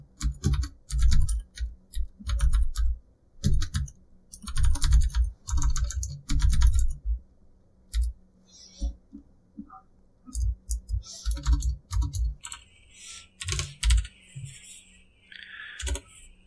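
Rapid bursts of typing on a computer keyboard, close and clear, come in uneven clusters of keystrokes separated by short pauses, with a few sharper isolated clicks near the end.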